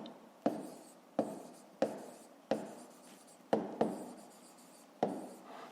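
Pen strokes scratch across paper as sums for a fifth-grade maths exercise are written out by hand, a series of close, crisp scratches arriving in an uneven rhythm with brief pauses between them.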